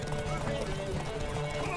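Horse hooves pounding through a race in The Witcher 3, quick continuous clip-clop with a whinnying horse nearby, underneath a voice speaking.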